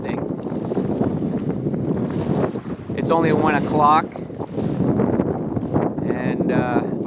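Wind howls and gusts across a lake during a solo canoe trip in August, a roaring rush that swells and dips, with someone briefly talking over it.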